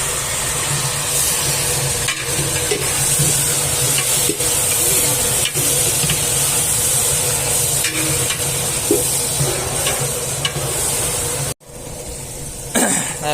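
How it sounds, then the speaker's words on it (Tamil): Tomatoes and onions sauté in hot oil with curry leaves for a tamarind kuzhambu rice dish, giving a steady, loud sizzle with scattered stirring clicks. Near the end the sizzle cuts out abruptly, then returns more faintly with a few scrapes. "இப்போ நாம் அதுக்கு தக்காளியை போட்டு அதே நல்லா எண்ணெயில் வதக்கிடுங்க"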